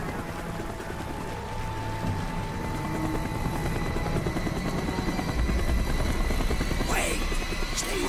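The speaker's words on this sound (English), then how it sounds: "The chopper is coming around again." A helicopter in Black Ops drones loudly overhead with a constant rotor roar that grows slightly stronger, mixed with in-game ambience.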